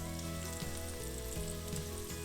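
Onions softening in a hot pan for a baked ziti sauce, giving a loud, close, continuous sizzle and crackle with a few soft stirring scrapes and no talking.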